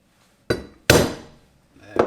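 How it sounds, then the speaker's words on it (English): Three sharp metallic hammer taps on a screwdriver, used to split the headstock bearing race of a Suzuki Intruder VS1400 motorcycle; close and loud, each strike ringing out briefly, with a gap before the last. "I'm going to give it a few taps and hopefully that will split it open."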